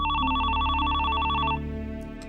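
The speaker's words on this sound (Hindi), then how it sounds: "फोन क्यों नहीं उठा रही हो?" A telephone rings loudly with a warbling electronic trill that repeats steadily for about a second and a half and then cuts off, leaving a low background hum and a couple of faint clicks.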